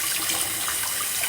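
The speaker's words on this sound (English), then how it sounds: "Rinse it off really good because the water should run clear" Water runs steadily from a tap while a make-up brush is rinsed, a continuous close hiss and splash with no talking.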